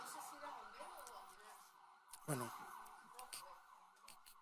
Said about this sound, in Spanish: No sé si es serenazgo o una ambulancia o bomberos.